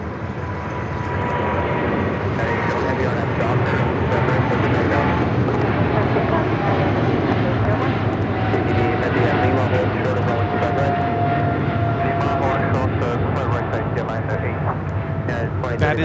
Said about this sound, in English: That is China Airlines Cargo 5382 taking off, excuse me, to Miami, Florida on the 777 freighter.